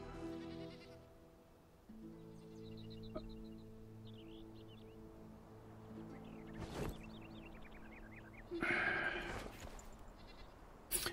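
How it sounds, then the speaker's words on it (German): A goat in the video game Enshrouded bleats in a few short wavering calls over a soft background of game music and ambient tones, with a bird-like chirp near the end. "wir haben eine Ziege"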